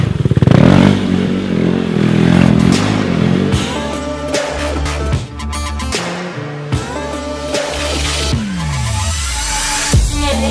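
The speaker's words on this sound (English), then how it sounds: "So I took your RC a little bit to make some spins here in the workshop." RC stunt motorcycle revving and spinning in a workshop, a loud buzzing engine that rises and falls in pitch through repeated revs, with clattering and scraping throughout.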